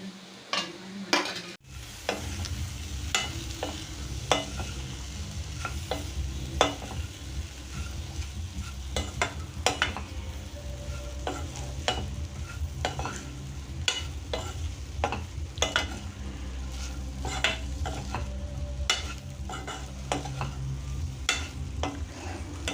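Okra fries in a hot pan with chilli powder, a steady sizzle broken by frequent scraping clicks of a spoon stirring, close and continuous with no talking.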